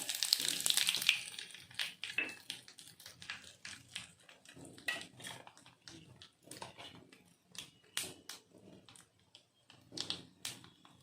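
Mustard seeds, urad dal and asafoetida fry in sesame oil, giving irregular crackles and sharp pops over a faint sizzle, loudest at the start and then coming in scattered bursts.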